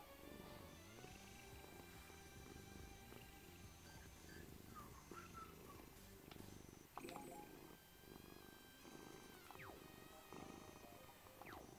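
A pet cat purrs softly and steadily, a faint, continuous rumbling close by, mixed with quiet background tones and a few light clicks.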